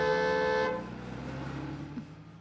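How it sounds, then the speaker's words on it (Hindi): A car horn honks in one sustained, steady blast for about two-thirds of a second, then cuts off, leaving a low rumble of vehicle and road noise. "सामने से कोई भी गाड़ी आए तो हॉर्न बजाना।"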